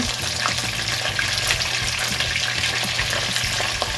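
Turkey pieces frying in a pot of oil for a Haitian smothered turkey dish, a dense crackling sizzle with scattered sharp pops, close and steady, with no talk.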